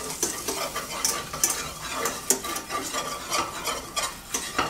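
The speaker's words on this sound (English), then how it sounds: "So you add your flour to the pan" Flour stirred into hot oil in a frying pan to make a roux, with a steady soft sizzle and repeated scraping strokes of a utensil against the pan, close and moderately loud, no talking.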